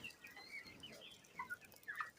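Chickens cluck softly on a poultry farm, a few faint, scattered clucks and peeps from nearby birds against quiet ambient noise.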